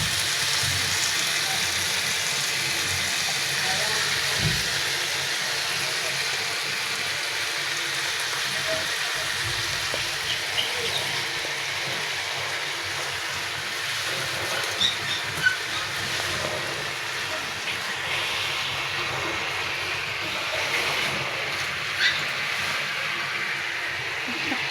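Leafy greens (shak) hitting a hot pan and sizzling, a loud, continuous hiss and crackle close by that holds steady throughout with a few small pops.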